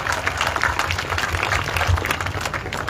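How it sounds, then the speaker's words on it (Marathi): Audience applause at a college gathering in Indapur, a steady wash of many hands clapping throughout, fairly loud and continuous without a clear break. "आज अनपड सर आणि त्यांच्या सर्व टीमला एकदा आपण सर्वांनी टाळ्या वाजून त्यांचं अभिनंदन करा"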